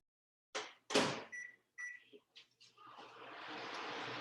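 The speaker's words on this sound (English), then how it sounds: "I'm gonna put mine in the microwave again now for 30 seconds" A microwave oven heating a cup of sugar water for rock candy: a few clunks and beeps as the door shuts and buttons are pressed, then a steady low hum as it starts running.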